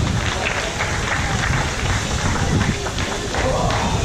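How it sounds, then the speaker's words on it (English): Audience applause at a men's 3 m springboard diving competition in Croatia, a dense, steady wash of clapping that fills the whole stretch, loud and close, with crowd noise mixed in. "Please give everybody a big round of applause."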